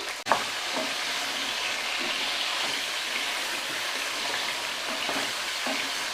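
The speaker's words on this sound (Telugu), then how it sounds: "అలాగే ములక్కాడ ముక్కలు దోసకాయ ముక్కలు అలాగే సొరకాయ ముక్కలు కూడా వేసేసుకుని కొంచెం పచ్చివాసన పోయే వరకు వేయించుకోవాలి" Drumstick, cucumber and bottle gourd pieces sizzling in hot oil for Andhra-style sambar, a steady even frying hiss with an occasional soft stir or clink.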